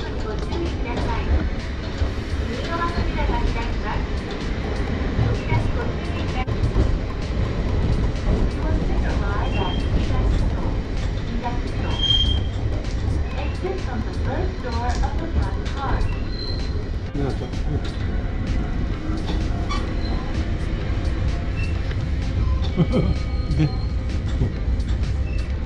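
Wakayama Electric Railway Kishigawa Line Ichigo train running, a steady low rumble of wheels and motor with faint squeals throughout, heard from on board with voices talking over it.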